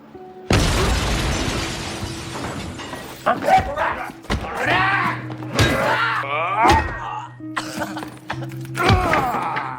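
Glass smashed with baseball bats during a film gang fight: a loud crash opens, followed by repeated sharp impacts and shattering bursts over a low sustained music tone.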